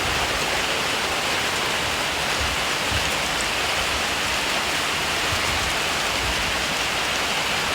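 Heavy rain pours down steadily over Bangkok, a dense, even hiss of downpour filling the whole stretch without pause.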